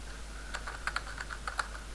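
Fingers type on a computer keyboard in a quick, uneven run of light clicks and taps, heard up close with no talking.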